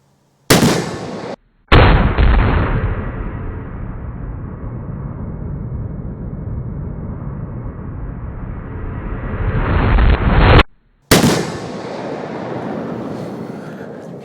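Magnum Research BFR revolver in .45-70 fired outdoors: loud sharp blasts near the start and again near the end, with a long stretch of heavy roaring noise between them.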